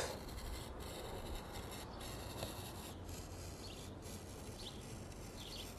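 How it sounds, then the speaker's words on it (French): Soft, continuous scratchy rasping as a blade drags through paper, with a few faint clicks and distant chirps in the background. "Et c'est parti pour la découpe."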